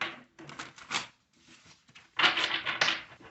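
Tarot cards riffle and flutter in two quick shuffling bursts, separated by a short pause with faint handling noise.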